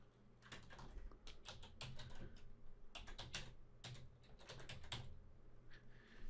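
Rapid keyboard typing and mouse clicking at a computer while editing text in titling software, a quick irregular series of sharp taps, close and fairly quiet with no speech.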